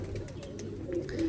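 A male pigeon coos softly and briefly, close by, over a quiet background.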